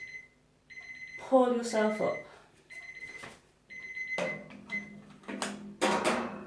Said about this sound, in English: That's my alarm going off, saying we've done an hour.